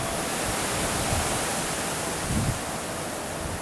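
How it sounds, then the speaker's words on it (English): Strong storm winds gusting through Laughlin, Nevada, by the river, a steady loud broadband roar with a couple of slightly stronger swells, no voices. "Storm winds were gusting."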